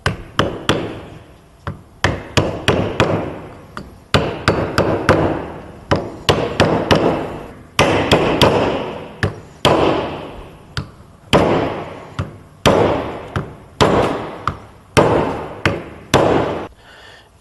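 Repeated sharp hammer blows driving an ABS ring onto a rear brake drum of a Peugeot 206 through a block of wood, dozens of close, loud thuds in irregular bursts with short pauses.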